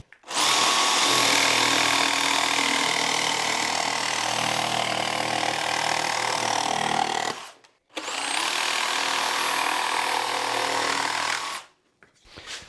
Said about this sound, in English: I'll do it with the jigsaw.